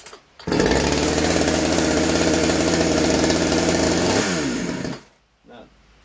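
A ported two-stroke chainsaw, a Stihl MS170 or Poulan PN3414 being tuned, runs steadily and loud close by for about four seconds with a rough buzzing drone, then drops off and cuts out.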